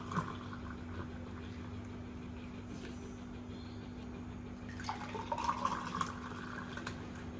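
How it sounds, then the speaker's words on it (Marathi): Watermelon sherbet pours faintly and steadily into a glass, a soft trickling that grows a little louder partway through over a constant low hum. "आता मी ग्लासमध्ये ओतून घेते सरबत"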